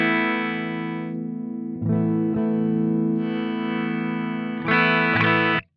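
A Strandberg Metal 6 NX electric guitar on an amplifier's clean channel, adjusted with the tone control, rings out in sustained chords that are struck again three times, each change sharp and loud before a final cut-off.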